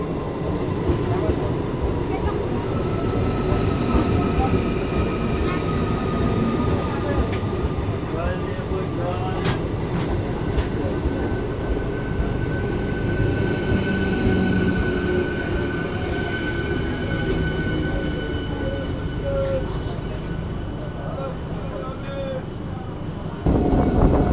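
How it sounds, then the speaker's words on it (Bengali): A Sealdah–Katwa local train, heard from aboard, gives a steady loud rumble of wheels and carriage noise that runs unbroken throughout, with faint background voices under it. "এটা সম্ভবত শিয়ালদা কাটোয়া লোকাল"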